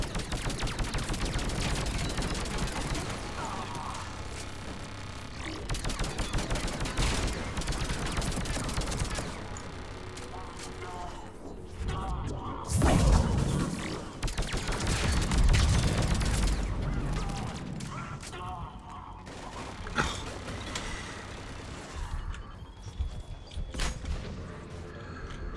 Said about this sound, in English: Is that a turret? That is a turret.